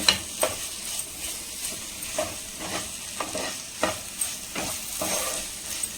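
Masala mix frying in a little oil for a vegetarian dish, stirred with a spoon: a soft steady sizzle broken by regular scraping strokes and light clinks, close and fairly quiet.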